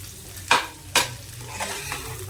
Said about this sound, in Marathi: फक्त तेलावर ही वांगी आपल्याला चांगली परतून परतून घ्यायची